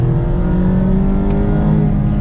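Mazda Miata engine revving during a rev-matched downshift, a close, loud sustained engine whine with clear rising and shifting harmonic tones inside the car, steady for a couple of seconds with no talking.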